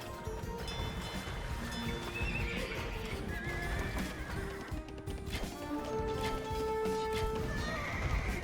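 Horses in the Age of Empires II video game neigh and whinny several times over clip-clopping hooves and busy game ambience, with no talk.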